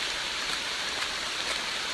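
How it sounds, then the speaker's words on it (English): Steady rain falls on the Appalachian Trail as a dense, even hiss of drops hitting the ground and foliage, close and continuous with no pauses or voices. "So just wanted to show the rain"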